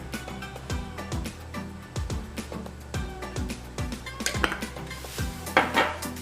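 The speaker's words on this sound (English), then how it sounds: "And then we mix everything up. Mix it real well." Salt and garlic powder seasoning for chicken wings is stirred in a bowl with a utensil, making a rhythmic run of close clinks and scrapes that grows busier toward the end, with no talk.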